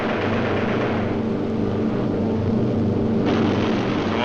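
B-17 bomber engines drone steadily during air combat, a dense, continuous roar that stays loud and unbroken throughout.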